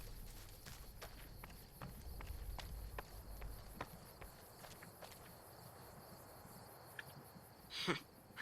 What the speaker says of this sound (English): Heard your footsteps coming up the ramp.